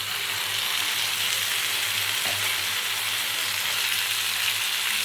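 Fried pointed gourd pieces sizzle in hot spiced masala oil for a shrimp and potol curry, a loud, steady hiss of frying that holds evenly throughout with no voices.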